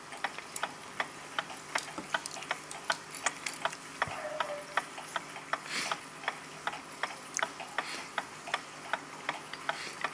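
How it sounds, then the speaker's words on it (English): A vintage hand-painted black floral German kitchen wall clock movement, its escape wheel catching, ticks in quiet, close, fairly regular clicks with small irregular hitches and a faint rubbing between beats. "The escape wheel is not turning, it's catching."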